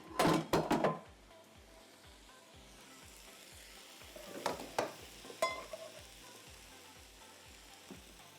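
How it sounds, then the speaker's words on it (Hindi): Chicken sautéing in a pan, with a soft steady sizzle under scraping and stirring clatter from a utensil against the pan, heavier knocks early on and a few more midway. "ये आपने अच्छी तरह इसको सौटे करते रहें, कलर चिकन का चेंज हो"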